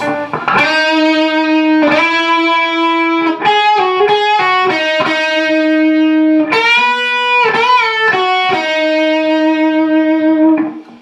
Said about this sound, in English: The second guitar, the first half of the solo will sound like this.